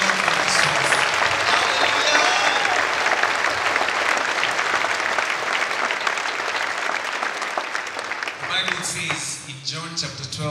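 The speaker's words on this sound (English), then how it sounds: "Let's give a mighty hand clap to the Lord for this." A church congregation claps for the Lord, with sustained, dense hand clapping throughout and some voices mixed in. The clapping thins out near the end.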